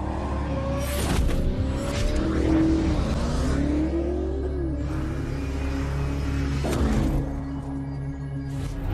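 A Porsche 911 Dakar, a rally-inspired sports car, drives with a steady engine rumble and revs that rise and fall as it shifts and accelerates, loud and continuous throughout.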